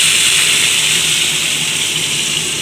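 Water gushes steadily into a pot, a constant splashing pour with no break.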